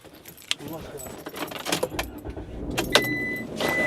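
Car keys jangle near a vehicle at a campsite, and then the car starts up to drive off. The engine rumble builds under the metallic rattling while people talk anxiously nearby.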